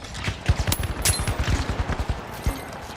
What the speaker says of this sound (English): Hit with all 6 shots the moment he fucking started shooting at me